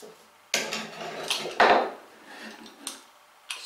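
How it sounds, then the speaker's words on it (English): A marking knife scoring shoulder lines across a wooden stretcher for a mortise joint, producing close scraping strokes and a few sharp taps of the knife and square against the wood, with no talking. "Now I can knife the shoulder lines,"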